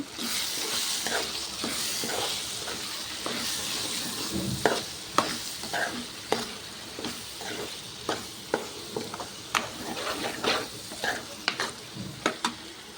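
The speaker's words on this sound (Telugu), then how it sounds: "కొంచెం ధనియాల పొడి మూడు వేసుకొని ఒకసారి మంచిగా కలుపుకోవాలి" Coriander powder stirred into a mushroom tomato curry, a spoon scraping the pan in steady repeated strokes over a continuous close sizzle, with no talking.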